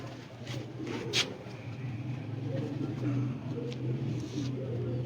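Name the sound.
Sialkoti pigeons cooing on a Sialkot rooftop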